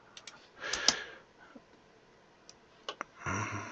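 Computer mouse clicks in quick pairs, sharp dry ticks scattered over a few seconds, close and fairly quiet, with no talking.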